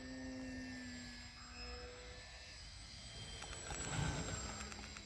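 A Bipe Pipe Pro RC biplane flies a roll, its electric motor giving a thin steady whine that drifts in pitch and swells slightly near the end, heard from the ground at moderate distance.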